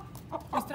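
A couple of short, soft clucks from a held Aseel rooster, close by and fairly quiet, with no talking.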